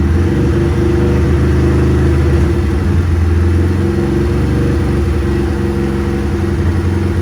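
A Honda Grom motorcycle engine is held at a steady 3,000 RPM, a close, loud, even mid-pitched drone with a constant tone and no speech over it.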